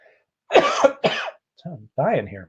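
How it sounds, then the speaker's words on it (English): A person gives two harsh, close coughs in quick succession, then speaks briefly in a strained voice. "I need to law of attract my cough away."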